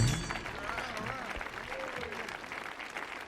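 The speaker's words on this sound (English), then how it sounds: "Thanks for clapping along" An audience claps along steadily at a live Kyo-Shin-An Arts performance on the Millennium Stage, the clapping spread evenly through the room while voices and music carry on over it.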